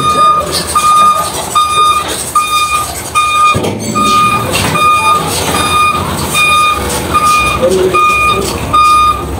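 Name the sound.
truck reversing beeps while loading onto ferry at port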